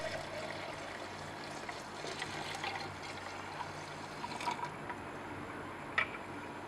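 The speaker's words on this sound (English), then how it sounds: "And now with vigorous stirring, we add this to the piperinate solution." Oxidizing agent solution is poured into a piperinate solution under vigorous stirring, a quiet, continuous liquid trickle and swirl with faint clinks and one sharper tap near the end, no talk.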